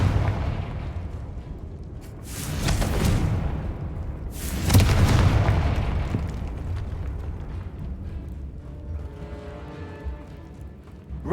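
Confringo spell blasts go off in a video game, two loud booming explosions a couple of seconds apart, each a sharp burst followed by a long rumbling tail that fades under continuous low game ambience.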